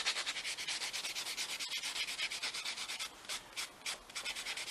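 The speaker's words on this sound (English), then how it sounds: "I can buff and buff and buff and the whole finger come off" Nail buffer rubbing back and forth on a powder-dip nail fitted to a mannequin finger, close, quick rhythmic scratchy strokes, a little irregular near the end, with no voices.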